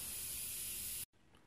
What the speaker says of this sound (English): we're going to go ahead and spray the second coat and get it on nice and good here